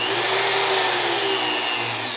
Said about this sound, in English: Turn that drill on.